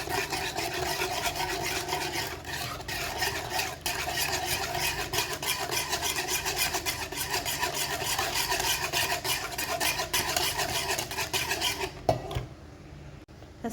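Cake batter for a tea cake being stirred after a cup of liquid milk is added, continuous rhythmic scraping and whisking against a bowl, close and steady, stopping abruptly near the end.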